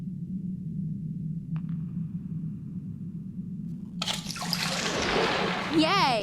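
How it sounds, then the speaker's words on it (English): Water gushes into a bathtub in the point-and-click adventure game Secret Files: Tunguska, starting suddenly midway as a loud, hissing splash over a low, steady background hum. "I think this turns the water on"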